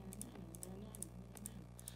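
Faint mouse clicks tap out a tempo in Reaper on a computer, a regular run of light ticks under a low steady hum, with soft humming in the background.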